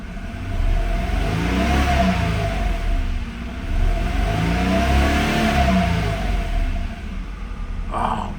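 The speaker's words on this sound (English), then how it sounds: "I'm going to give it a couple of quick revs so you can get an idea of what she sounds like" A 1991 Acura NSX engine revving while parked: two rising-and-falling revs in quick succession, loud and close, with a steady engine drone underneath and a brief bump at the end.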